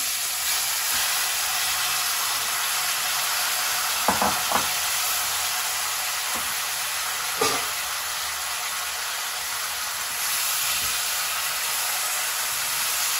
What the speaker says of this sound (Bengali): চালতাটাকে খুব ভালো করে তেলের মধ্যে ভেজে নিতে হবে।